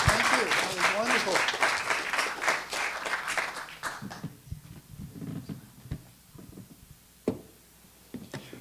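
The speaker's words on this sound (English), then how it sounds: "Let's give Pamela a big applause." An audience applauds after a speaker at an arts evening, a dense burst of clapping that thins out after a few seconds into scattered claps, with voices underneath.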